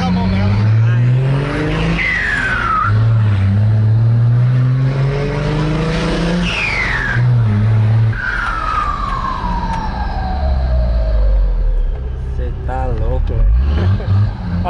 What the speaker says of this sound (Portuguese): Silverado, motor 6 cilindros, MWM, diesel, turbo